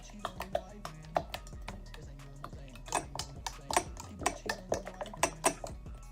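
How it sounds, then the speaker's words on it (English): A spoon stirring yeast in a container makes a quick series of light clinks and taps against the sides, fairly close, with faint talk underneath. "Grab another clean spoon, fork, whatever, stir it around. Stir that yeast around."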